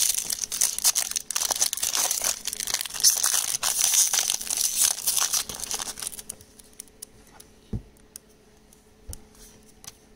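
A Magic: The Gathering Modern Horizons booster pack wrapper being torn open and crinkled up close, giving dense foil crackling for several seconds before it gives way to a few isolated soft taps and ticks.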